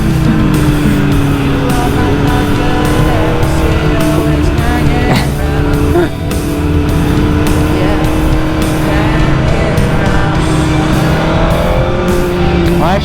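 A BMW M1000R motorcycle riding in second gear on a road holds a loud, steady engine drone close up for the whole stretch, with its pitch wavering slightly as the throttle changes.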